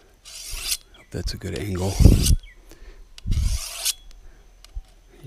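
A machete blade is sharpened with a file, giving several separate rasping strokes of metal being removed, close and clear, with someone talking briefly between strokes.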